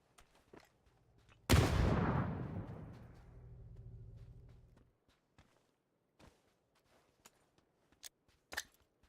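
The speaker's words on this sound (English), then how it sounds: "You just skip a nade perfectly in right at the wall I'm at?" Grenade explosion in PUBG beside a wall: one sudden, loud, close blast that rolls and decays over about three seconds, followed by scattered faint footsteps and small clicks.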